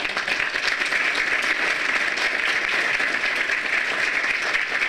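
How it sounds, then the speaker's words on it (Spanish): Audience applause at a municipal event in Bocoyna, a dense, steady wash of many hands clapping that holds at an even, fairly loud level throughout without pause. "Un fuerte aplauso."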